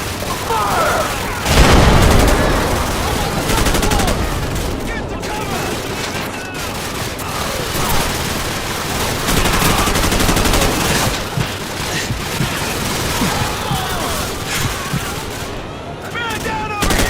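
Sustained gunfire from a Call of Duty Modern Warfare campaign battle on Hardened difficulty: dense bursts of rifle and machine-gun fire with booming impacts, loud and continuous throughout, under shouted voices.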